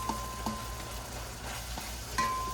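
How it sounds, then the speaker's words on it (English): Chopped peppers and onions hit a big wok beside chicken and ground turkey, giving a steady sizzle with a few sharp utensil clinks and scrapes, close and alone. "I'm going to go ahead and drop in my peppers and onions already chopped"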